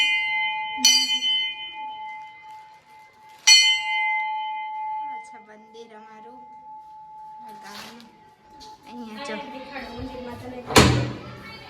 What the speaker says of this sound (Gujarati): બેલ લગાડી દઉં